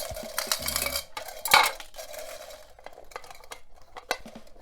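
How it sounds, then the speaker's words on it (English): Rustling and clinking as string lights are pulled out of a package for a Dollar Tree snowman craft, with scattered irregular clatters and scrapes close by, no talking. "So I'm taking my lights out. Of course, I'm making a tremendous amount of noise, I'm sure."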